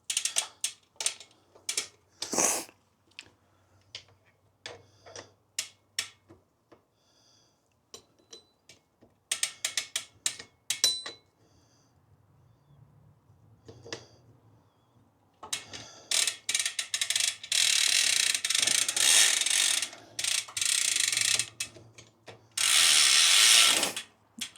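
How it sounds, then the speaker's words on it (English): Bicycle cranks are tightened with a ratchet, making a clicking pawl sound in short bursts with pauses between them, then longer, louder stretches of rapid ratcheting near the end. "I'm gonna tighten the cranks all the way"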